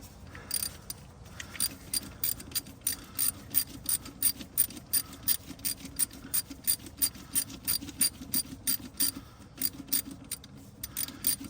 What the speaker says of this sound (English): I want to hand tighten it so it ain't too tight